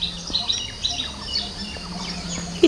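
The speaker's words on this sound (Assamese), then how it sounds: "কুলিয়ে পুৰা কু কু কৰি আছে।" Asian koel calling in the early morning near a jackfruit tree, its repeated bright notes sounding at a moderate distance alongside other scattered bird chirps over a quiet outdoor background.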